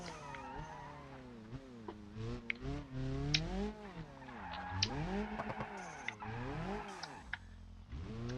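A BeamNG.drive car engine drones and wavers in pitch while tires skid and squeal through a handbrake slide, with occasional sharp clicks over the steady roar.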